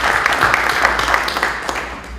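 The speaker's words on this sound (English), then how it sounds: "Round of applause." A workshop audience applauds in a brief burst of dense clapping that tapers off after about two seconds, loud and close.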